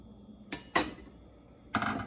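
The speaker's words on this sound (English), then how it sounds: "Give it a stir." Brown sugar stirred into a mixture, with three short scraping clinks of a utensil against a pot, close but fairly quiet.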